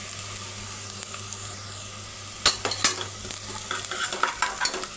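Onion and fenugreek leaves fry in a pan with a steady close sizzle, while a utensil stirs through them and scrapes out irregular clinks and knocks that grow busier toward the end.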